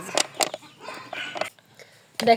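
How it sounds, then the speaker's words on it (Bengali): Chickens clucking outside, several short, close bursts of clucks in quick succession with a brief pause before a final louder squawk. "আর বাইরে আমার মুরগি দেখেন শব্দ করতেছে অনেক"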